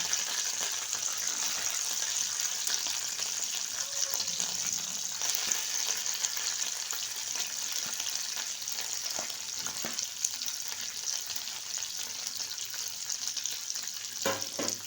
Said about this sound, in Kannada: ಸೊ ಇದಕ್ಕೆ ನಾವು ಈರುಳ್ಳಿ ಹಾಕ್ತಾ ಇದ್ದೇವೆ